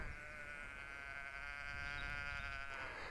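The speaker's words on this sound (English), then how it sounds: "The noise from all the sheep, it's immense." A flock of sheep bleats continuously near a countryside campsite in the Peak District, with many overlapping, wavering cries blending into one loud, sustained chorus.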